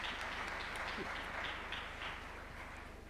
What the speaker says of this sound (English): A big round of applause to their excellencies.